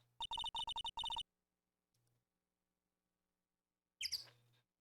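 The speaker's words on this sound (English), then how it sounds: "Why is it tweeting?" Rapid bursts of electronic chirping from a bird in a video game, several quick tweets in a row, then a short pause and another harsher, louder chirp near the end, all fairly loud and close.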